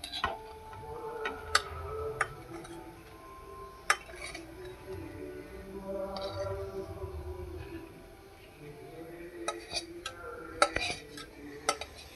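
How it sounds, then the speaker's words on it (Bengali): A spoon stirs a pot of kaun rice khichuri with fried vegetables and partly boiled dal, making quiet scraping and irregular sharp clinks against the pot, close by. "এখন নাড়াচাড়া করে একসঙ্গে মিশিয়ে নিচ্ছি"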